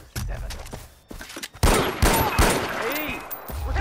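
Gunfire in a video game level, with several sharp bursts and a rapid fusillade of shots close by, mixed with brief game voices.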